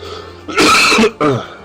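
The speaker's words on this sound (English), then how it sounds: "I'm not trying to cough over you guys." A loud, harsh cough burst lasting about half a second, followed by a shorter second cough and a faint click, close to the microphone.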